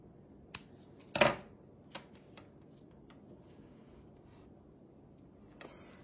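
Crochet yarn snipped with scissors: a few crisp, close cuts, the loudest a short rasping snip, followed by faint rustles in a quiet room.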